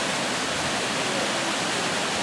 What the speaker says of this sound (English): that's the River Laxey, having come all the way down from Snaefell